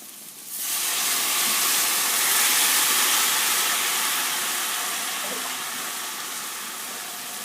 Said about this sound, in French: je vais arroser avec une louche de bouillon